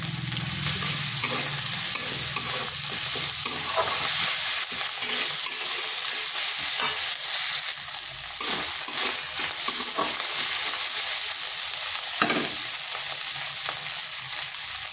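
Ginger and garlic paste frying with banana stem and potato in a pan, a steady loud sizzle with scraping stir strokes throughout, no voices.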